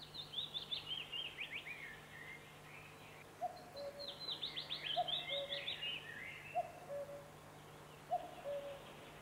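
Birds at a partridge and pheasant rearing farm, faint high calls and chirps in scattered bursts, with short lower calls repeating at intervals against a quiet outdoor background hum.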